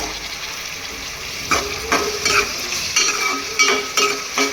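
Prawns sizzle and fry steadily in a pan while a spoon stirs them in several scraping strokes, close and fairly loud, with no talking.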